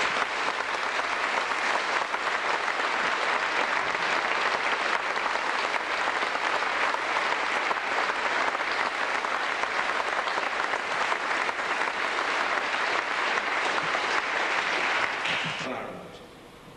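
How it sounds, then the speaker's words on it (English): Sustained applause from a large audience, steady and dense for about fifteen seconds before tapering off at the end. "give them perhaps a round of applause in recognition of this"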